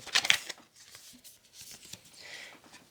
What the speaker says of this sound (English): I'm going to draw 2 cards from the Moonology pack